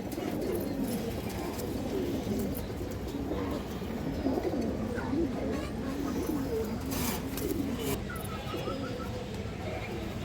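High flyer pigeons coo repeatedly in a low, rolling rhythm, close by and fairly loud, over a steady background hum, with a few faint chirps near the end.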